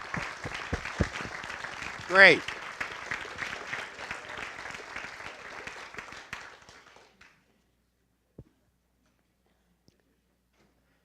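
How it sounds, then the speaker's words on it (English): A standing audience at a community awards dinner applauds for about seven seconds, a dense, lively patter with a brief spoken word, before the hall falls quiet except for a stray thump. "Give yourself an applause."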